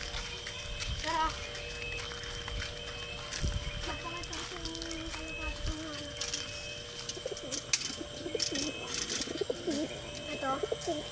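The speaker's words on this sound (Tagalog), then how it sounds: "Papakita ko lahat ng kalapati sa inyo" Soft pigeon coos rise and fall amid a busy outdoor background, with a person talking nearby and occasional clatter.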